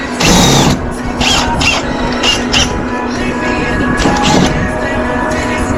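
A power drill backs out screws during an HVAC basement changeout, whirring loudly and close with short bursts of higher whine over a steady hum, amid room noise.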